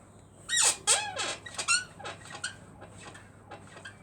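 A series of sharp, high-pitched squeaks persists despite GT85 lubricant, coming in quick clustered bursts up close and then fading into fainter, sparser chirps.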